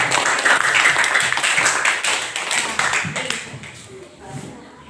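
A sixth-grade class of children in an Indonesian classroom claps together in a short burst of hand claps that fades out, with a teacher's voice speaking over and after it.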